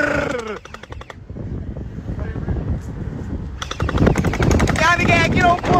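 Splat guns (gel blasters) fire in rapid rattling bursts from a moving car, a fast burst at the start and another sustained volley later, with people talking loudly in between.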